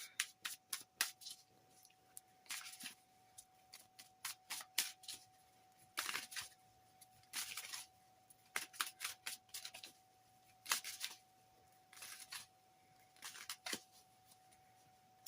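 Crisp bursts of tarot cards being shuffled in repeated riffles with short pauses between, close and clear against a faint steady hum; no voices.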